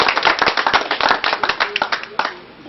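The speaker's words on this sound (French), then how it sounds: "On peut les applaudir." Applause from a small crowd at an outdoor hare-hunting hound pack competition results ceremony, a dense run of close hand claps with voices mixed in.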